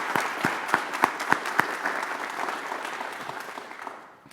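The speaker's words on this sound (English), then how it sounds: "Let's give everybody a round of applause." An audience at a school district convocation applauds with a burst of distinct claps that soon thin out and fade away over a few seconds.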